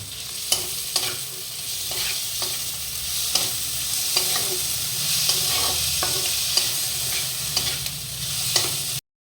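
Turmeric, chilli powder and other spices frying slowly in a pan for a bata fish dish, a continuous close sizzle punctuated by regular scraping stirs of a spatula.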